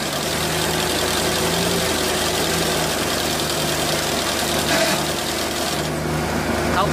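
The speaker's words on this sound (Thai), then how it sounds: "ต้องเร่งรอบก่อนนะครับไม่งั้นเดี๋ยวเครื่องจะดับนะครับ" Isaki HL1900 combine harvester engine running in a rice field, a loud steady diesel drone with slight knocking and small rev changes, close up.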